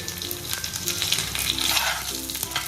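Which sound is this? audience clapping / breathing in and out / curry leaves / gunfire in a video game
curry leaves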